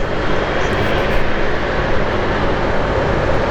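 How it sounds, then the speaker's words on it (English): Jet engines roar loud and steady as airliners, among them a Virgin Boeing 787 Dreamliner, taxi at Heathrow, a close continuous rumble with no talk. "We've got a 787 Virgin Dreamliner as well going out"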